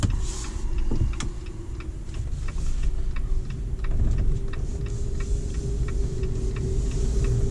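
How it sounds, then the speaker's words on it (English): A 2023 Jeep Wrangler 4xe Sahara plug-in hybrid's gas engine kicks back in while driving on a low battery, a steady low engine drone and hum under light clicking ticks, continuous and moderately loud throughout. "See that gas motor kicks back in there"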